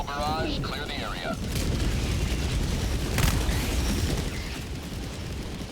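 A deep, rumbling explosion from a recoilless rifle's high-explosive round booms in Helldivers 2, a heavy roar that lingers with debris and echoes amid battle noise, with a player talking over it.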